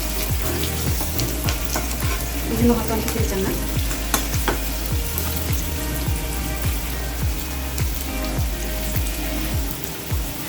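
Onions sizzle and fry steadily with a little salt in a pan for a chicken gizzard and liver curry, with frequent stirring scrapes and clatters throughout, close and continuous while a voice speaks briefly over it.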